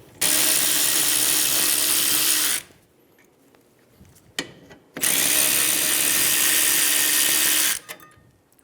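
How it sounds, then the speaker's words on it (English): Power tool, likely an impact wrench or drill with a 14mm socket, removing rear caliper bracket bolts on a 2007-2011 Toyota Camry; two loud sustained bursts of about 2.5 seconds each, separated by quiet clicks and handling noises. "Using a 14mm socket, remove the caliper bracket bolts."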